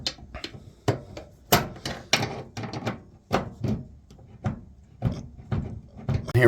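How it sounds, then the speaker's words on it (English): A CostWay air conditioner's side panels being adjusted with a wrench: irregular knocks, taps and metallic clunks come in quick uneven bursts, fairly close, with some faint background noise between hits. "I have the wrench here, and we're just making small adjustments."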